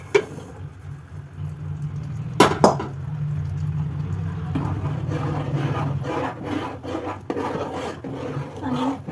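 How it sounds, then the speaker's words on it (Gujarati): Urad flour being stirred in melted ghee in a pan for Gujarati adadiya, giving a steady close scraping and rasping that runs throughout, with a couple of sharper knocks early on. "અને એને ઘીમાં સતત હલાવ્યા રાખવાનું."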